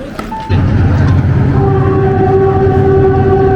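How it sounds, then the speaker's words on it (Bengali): A train horn sounds steadily over the deep rumble of a train approaching Nine Arch Bridge in Ella, Sri Lanka, loud and close, holding for several seconds. "মনে হচ্ছে ট্রেন আসতেছে"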